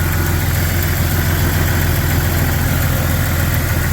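A 1996 Jeep Cherokee idles steadily up close, its engine drone loud and even, with a faulty purge valve ticking in a fast regular rhythm underneath, partly buried in the engine noise.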